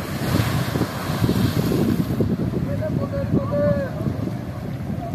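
A large cargo ship on a river runs its engine to hold against the current, a low steady rumble mixed with heavy wind buffeting and lapping water, while a voice talks faintly.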